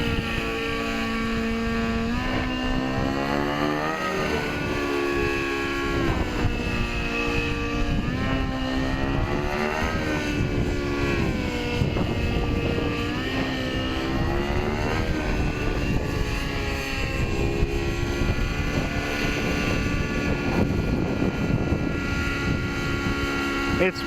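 An RC 600-size helicopter powered by an OS 91HZ nitro engine flies at full power, a loud high-pitched engine whine with rising and falling pitch as it manoeuvres, steady and continuous with some voice underneath.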